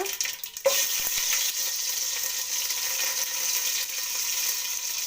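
Garlic frying in hot oil in a pan, after mustard seeds, for a Karnataka-style chickpea sambar: a steady, close, bright sizzle that jumps louder as the garlic goes in and then holds, with a few faint clinks and no talking.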